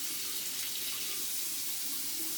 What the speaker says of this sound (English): I'm going to take a paper towel, turn on the faucet.